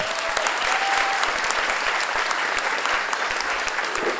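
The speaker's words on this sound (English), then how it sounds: "That's something we all need to applaud." Loud, full applause from guests at a hospital celebration gala, many hands clapping in a thick continuous roar with individual sharp claps poking through, sustained for about four seconds without talk.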